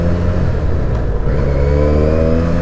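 A 2020 Benelli 302 BN motorcycle engine revs steadily while being ridden, with a continuous loud, close drone and rising harmonic tones that shift slightly in pitch as it pulls.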